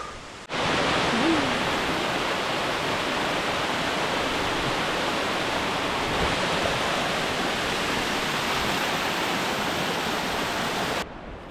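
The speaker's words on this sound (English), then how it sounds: "But the waterfall is a bit closer." Loud, continuous roar of rushing water from a nearby waterfall in Jotunheimen, Norway, a steady broadband rush filling the whole stretch before cutting off.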